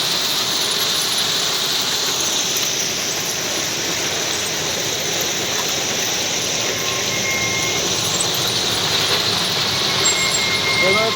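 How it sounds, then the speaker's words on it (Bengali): Ballast stones pouring from moving train wagons on a rail bridge works site, a continuous loud rushing rattle with metallic squeals and screeching wheels, steady and close throughout. "এইভাবে পাথরগুলো ফেলতে ফেলতে যাচ্ছে।"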